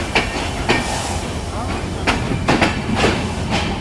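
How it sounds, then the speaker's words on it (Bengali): The Drutojan Express rolls in behind locomotive 6312 at a Bangladeshi station: loud steady rumble with repeated clattering wheel clicks over rail joints, close by, with background crowd noise. "63-12 ইঞ্জিন পাওয়ার কার নিয়ে আসলো দ্রুতযান এক্সপ্রেস ট্রেনকে।"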